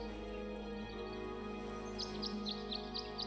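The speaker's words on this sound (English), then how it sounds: "The birds seem to like it. They're even singing a little tune." In the video game Tangle Tower, birds chirp a short run of about six quick, high tweets in a little tune over a steady ambient game music drone.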